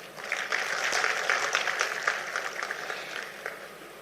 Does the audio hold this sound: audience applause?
yes